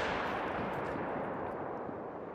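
A rifle shot at a caribou in a hunting video game, a loud broadband blast that rolls into a long, dense echo fading slowly across a couple of seconds with no talking.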